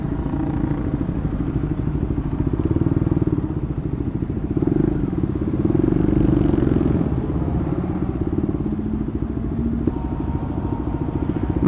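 A KTM Duke 250 motorcycle engine runs at close range with a rough, pulsing low-pitched drone that swells and eases as the rider revs it during a Sunday morning ride, over a faint clatter.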